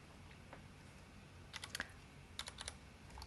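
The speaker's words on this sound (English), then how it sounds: "So you select the note and type enter." Computer keyboard being typed on, a few quiet scattered keystrokes followed by two short bursts of clicking taps, close and isolated with no talking.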